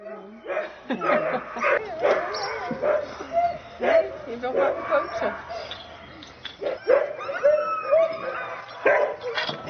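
Husky dogs at a husky farm yip, whine and bark in repeated excited bursts close by, with howl-like cries mixed in throughout.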